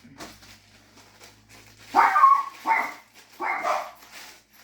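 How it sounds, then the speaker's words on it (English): A dog barks a few times nearby, three short, loud woofs after a quiet stretch with faint background noise. "My dogs never know what they're barking at."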